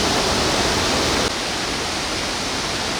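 Tayicsua waterfall on the Bolaven Plateau in southern Laos, in full flow at the end of the rainy season, pours as a steady, loud broadband roar that softens slightly partway through.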